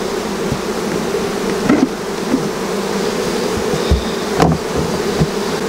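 Honey bees buzzing around open hives at an apiary during the nectar flow, a dense steady drone close by with a few brief knocks and clicks from hive work, no talking.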